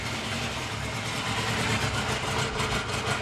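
A carbureted 1998 Yamaha YZF600R Thundercat motorcycle engine idling while warming up, a steady, fairly quiet low rumble throughout with no talking.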